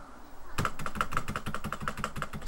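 Computer keyboard keys pressed rapidly in a steady rhythm, about a dozen crisp, close clicks following a short quiet start, with no talking.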